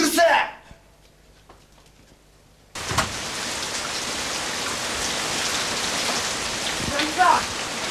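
Heavy rain pours down outdoors, bursting in after a short quiet stretch with a faint voice and then hissing loud and steady for several seconds, with nobody speaking.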